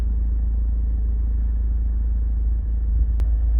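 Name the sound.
Honda CR-V 2.2 i-DTEC engine running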